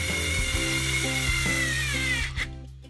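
Bosch IXO cordless screwdriver driving a small screw, a steady high motor whine with tonal harmonics that dips slightly under load and stops near the end, heard up close without talk.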